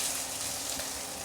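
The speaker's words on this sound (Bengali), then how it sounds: "আলুটা ফ্রাই করব অল্প একটু" Boiled potato pieces frying in oil in a kadai, giving a steady, close hiss and sizzle with no other sound.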